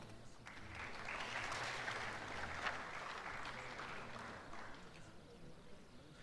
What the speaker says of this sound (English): Got a shout out from the crowd